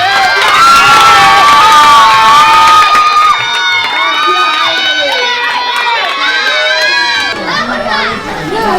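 A wedding audience cheers and shouts loudly throughout, with many excited voices, some sounding like children, rising and falling together in a dense crowd roar.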